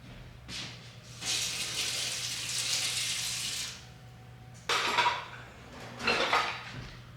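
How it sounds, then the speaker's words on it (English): Water from a kitchen tap runs in bursts as fingers are rinsed after mixing cake batter with a fresh brown egg, with a steady splash followed by shorter clattering gushes near the sink and no talking. "And I need to wash my fingers."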